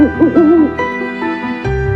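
Owls hoot in a cartoon children's story, a series of wavering, warbling calls close and fairly loud, overlapping with sustained musical tones underneath and no speech.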